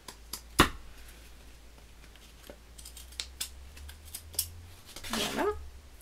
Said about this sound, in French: Je vais découper ce qui dépasse.